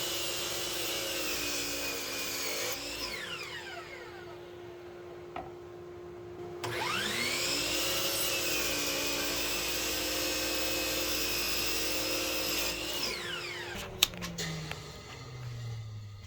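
A shop dust collection vacuum drawing air through a 3D printed cyclone separator, a steady loud whine and rush that drops and swells as the motor spins down and back up, with a few sharp clicks near the end.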